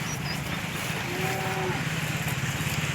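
A low, drawn-out moo from a bull sounds once over a steady background hum, moderately close.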